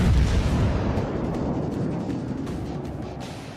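Heavy naval gun salvo from the Queen Elizabeth battleship in World of Warships, a loud deep boom at the start with a long rumbling roar slowly fading, no talk.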